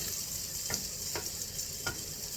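Steady hot sizzle of steak searing in butter with herbs in a pan on high heat, a constant bright frying hiss with a few soft clinks or stirs over it, close up and without talking.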